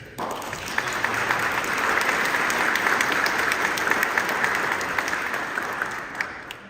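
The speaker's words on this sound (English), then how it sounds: "I would like for a round of applause for the scouts" Sustained audience applause at a town meeting, honoring a group of scouts; steady dense clapping from a roomful of people, fairly loud and continuous for several seconds before tapering off at the end.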